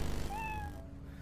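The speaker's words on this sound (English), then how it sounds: "There's a cat in that box." A cat meows once inside a video game, a short rising-then-falling cry heard close and clear over a low, steady game background hum.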